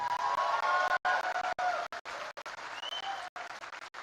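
Audience at a cultural festival speech applauds in a steady burst of clapping that breaks off in short gaps, moderately loud with a faint voice beneath.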